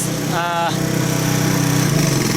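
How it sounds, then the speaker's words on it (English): A residential lawn mower labours through thick, wet, long grass that clogs it, its engine droning steadily and loud throughout with a strained, uneven tone, while a voice talks briefly near the start. "Now you hear the mowers trying to start, it's all clogged"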